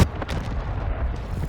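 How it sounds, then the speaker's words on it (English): Cruise missile strike in the online shooter Call of Duty: Modern Warfare II, a dense, continuous roar of booming explosions and rumbling blasts, loud and close throughout with a sharp hit at the very start. "Hostiles launched a cruise missile."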